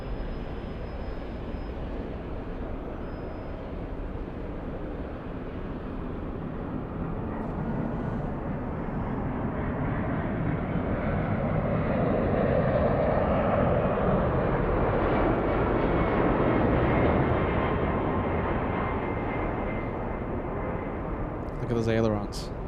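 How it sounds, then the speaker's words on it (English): Delta Boeing 767-300 jet landing on runway 24 right at LAX, a broad steady engine roar that slowly swells and fades over a long stretch, with no talk. "Delta's 301 flying in from Atlanta. A 767-300. Runway 24 right, clear for land."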